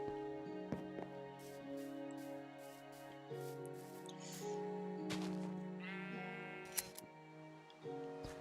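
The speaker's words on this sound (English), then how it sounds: "let's go shear our sheep" Sheep bleat in the video game Minecraft, several separate cries sounding over a soft background of game sounds and ticks, fairly quiet and evenly spaced.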